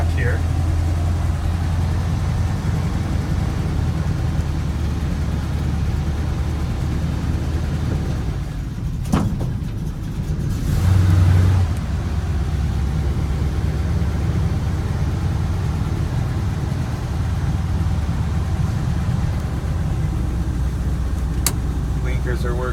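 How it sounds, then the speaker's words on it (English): A 1955 Chevy 3200 3/4 ton truck drives along with a steady low engine drone throughout, its pitch and loudness shifting slightly midway as it moves through the drive. "just gonna go on a drive around the block here."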